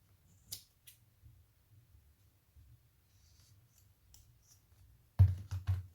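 Scissors snip through yarn while a boho wall decoration is being finished: one crisp snip early on, then a quiet pause, and a quick cluster of louder, close-up cuts at the end, with no talking.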